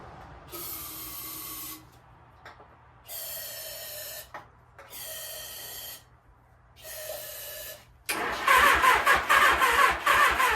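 A 1978 Suzuki GS750 motorcycle engine, long abandoned, cranks in four separate bursts with short pauses between, then catches and fires into a loud, rough, uneven running roar at the end.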